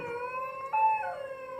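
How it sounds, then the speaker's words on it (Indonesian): Animal howling like a dog from a valley, a sustained wavering tonal cry with a brief rise in pitch and loudness midway, carrying on steadily without any talk. "Suara binatang dari arah lembah tundur melolong laksana anjing."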